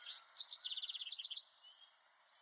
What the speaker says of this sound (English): Just listen to all those birds chirping.